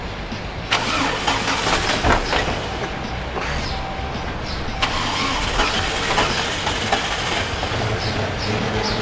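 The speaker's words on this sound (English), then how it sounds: "The only way you can start it is in first gear." A car in a repair shop starts in first gear, with the engine catching and settling into a loud, steady mid-pitched running drone and a few clanks along the way.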